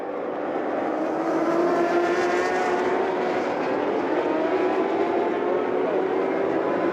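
Superbike racing motorcycles, Kawasaki and BMW machines, produce a steady engine drone with a rising pitch, loud and continuous throughout.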